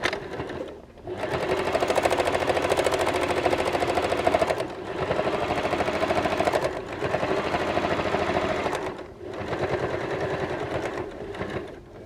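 A sewing machine stitches fabric for a microwave potato bag, running steadily and loudly close by in long bursts separated by brief pauses, with no voices.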